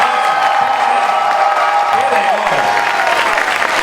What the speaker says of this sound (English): Please put your hands together for Joel and Ellie